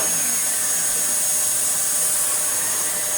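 A Dyson DC08 vacuum cleaner runs on very short pile carpet, a loud, steady high-pitched whine and airy roar held without a break, close up and with no voices.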